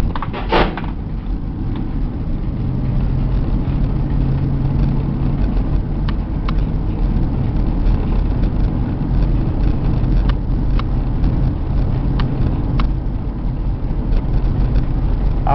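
A 2004 Chevy full-size AWD van drives along, its engine and road noise a steady loud rumble from inside the cabin, with occasional faint clicks and rattles and no speech.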